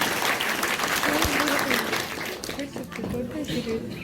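Audience clapping at a high school scholarship ceremony, a steady wash of many hands throughout that eases slightly near the end, with voices murmuring in the crowd.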